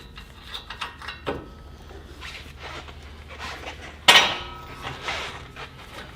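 Hammer blows on a Bronco ball joint during a lift kit install, several uneven metallic knocks and clanks with one loud ringing strike partway through, close by.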